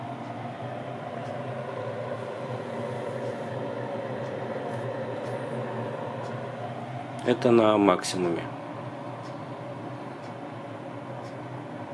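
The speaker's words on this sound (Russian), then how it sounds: "Это шум вот сушилка такой издает." A steady, droning hum from an electric food dehydrator drying pears runs throughout, with a brief spoken remark about two-thirds of the way in.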